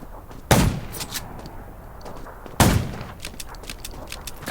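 Two loud, sharp gunshots in the video game Undawn, each with a short echoing tail, spaced about two seconds apart over quieter background clatter.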